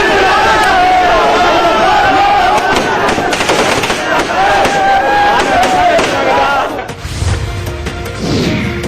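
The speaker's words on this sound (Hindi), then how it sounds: "जनता पार्टी के समर्थकों ने जीत में आतिशबाजी कर जश्न" Rapid crackling bursts of fireworks mixed with loud crowd cheering and shouting, dense and chaotic, close by, as party supporters celebrate an election win in Haryana, India.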